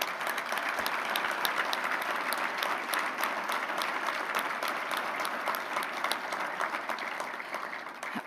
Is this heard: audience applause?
yes